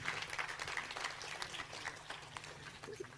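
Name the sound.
audience applause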